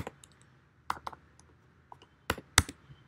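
Computer keyboard typing while code is written: scattered, irregular keystrokes and a few sharper clicks, close and fairly quiet, with pauses between bursts and no talking.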